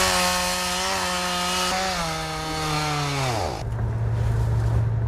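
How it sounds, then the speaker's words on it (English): Chainsaws run by volunteers clearing tornado debris after an EF4 tornado in snowy Iowa, one saw held at a steady high whine that drops in pitch as the engine bogs into wood, then settles into a lower idle rumble, loud and close. "Some volunteers came anyway, armed with chainsaws and their helping hands."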